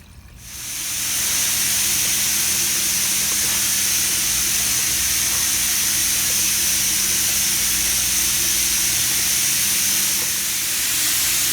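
Parts cleaner liquid sprays steadily into the open differential of a BMW E46, a loud continuous hiss that starts abruptly and holds for about eleven seconds with no talking.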